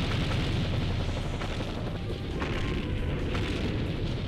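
A missile explosion in a PS2 game booms as a dense, continuous roar of rumbling blasts and crackling debris that stays loud throughout, with no voices.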